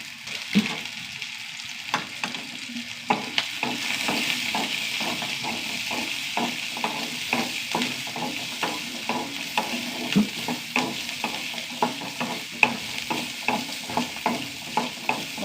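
Onion, roasted chickpeas, coconut and green chillies fry in a pan, a steady sizzle broken by regular scraping stir strokes throughout, close and moderately loud with no talking.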